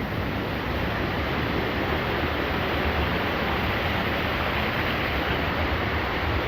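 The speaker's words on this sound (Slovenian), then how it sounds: "Ker je ta slap tako glasen." A loud waterfall on the Krupa river roars steadily, a dense broadband rush of falling water close by and unbroken throughout, with no voices.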